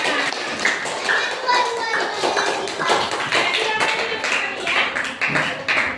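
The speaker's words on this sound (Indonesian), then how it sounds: "tepuk tangan untuk semuanya" A room of children claps together for everyone, a dense, continuous patter of many hands at moderate loudness, mixed with a few young voices chattering.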